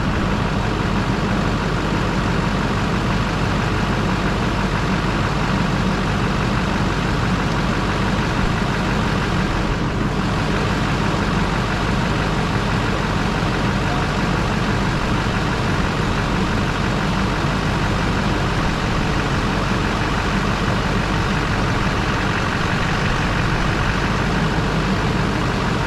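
A truck engine idles in drive with the wheels chocked, a steady, loud, low rumble that continues unchanged throughout, with no talk over it.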